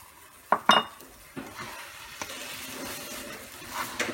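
Grated coconut, half a cup, spread and stirred in a frying pan with a sizzle underneath, two sharp utensil scrapes near the start, then softer scraping and clinks as the stirring goes on. No one speaks.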